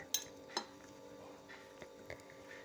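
Faint clinks and taps of a utensil against a bowl while vegetable kofta mixture with a pinch of amchur is mixed, two sharper knocks early on, then softer scattered scrapes in a quiet kitchen.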